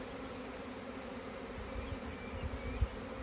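Buckfast honey bees at an apiary in Moreuil, Somme, make a steady, low, close hum that stays even throughout, with a few louder buzzes as bees pass near.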